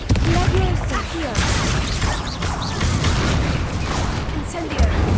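Spell blasts and magical booms from the Hogwarts Legacy video game crackle loudly and continuously while a voice repeatedly calls out incantations over the combat.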